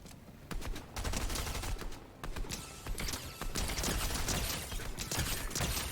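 Rapid bursts of automatic gunfire from a gun with heavy recoil in the battle royale video game Fortnite, firing in dense repeated volleys through most of the stretch, loud and close with brief pauses between strings of shots.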